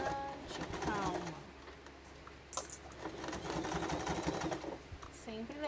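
A sewing machine stitches a handmade toiletry case in fast bursts of mechanical whirring and needle chatter, pausing between runs, close by, while someone talks over and between the stitching.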